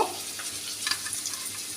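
Eggs and potatoes fry in a pan, a steady broadband sizzle with faint stirring scrapes running throughout, close and continuous with no talking.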